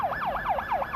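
A reserve fire engine's siren wails in a fast, rising-and-falling yelp, repeating about four times in one second, loud and steady.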